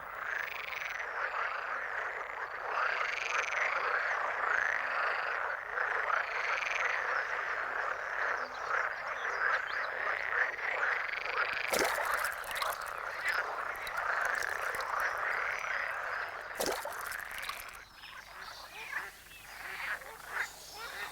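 Frogs croak at the water's edge in a dense, continuous chorus of overlapping calls, with a few sharp, brief interruptions along the way and no voice heard.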